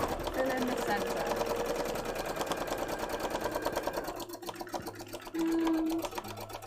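Sewing machine stitching cosplay fabric, a quiet rapid mechanical chatter running steadily then pausing briefly before resuming, with a voice speaking over parts of it.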